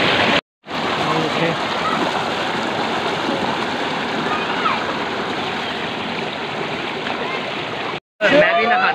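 Water runs and splashes steadily and loudly during an outdoor bath in a village setting, a broad continuous rush that fills the scene, broken by two brief silent gaps, with faint voices underneath.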